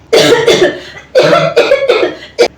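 A person coughs hard several times in quick succession: a few loud, close bursts with brief pauses, ending in one short final cough.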